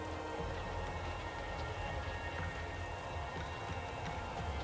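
Steady rain falls in the game Keeper, a continuous, fairly loud hiss of drops with no pauses and no voices.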